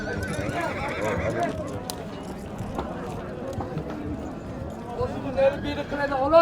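Horses at a livestock bazaar whinny and neigh loudly and repeatedly, with hoof clip-clops and crowd chatter, and people talk over the animal calls.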